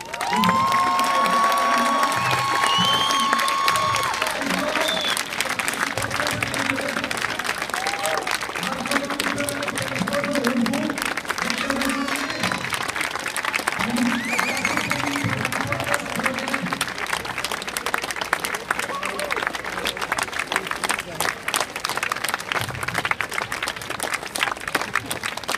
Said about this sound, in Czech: Určitě velký potlesk